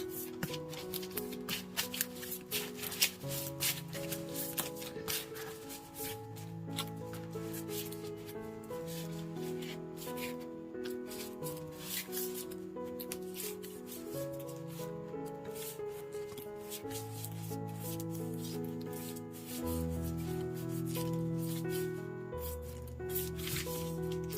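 A deck of oracle cards is shuffled by hand for a tarot reading, a continuous soft riffling and rubbing of card stock over a low background hum, close and fairly quiet for the whole stretch.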